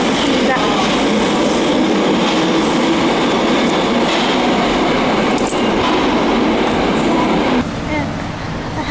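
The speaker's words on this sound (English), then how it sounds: "that means the train coming back" Train arriving at a Tokyo station near Kanda, a loud continuous rumble of wheels on rails with rhythmic clatter and brief squeals, close by, easing slightly near the end, with voices faintly underneath.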